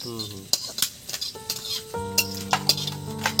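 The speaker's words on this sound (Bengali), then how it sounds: "কারি পাতাটা কিন্তু একটু ভালো করে ভাজতে হয় বন্ধুরা" Curry leaves frying in a pan for chire pulao, with metallic clinks of a spoon or spatula against the pan and stirring scrapes over a light sizzle, close and fairly quiet.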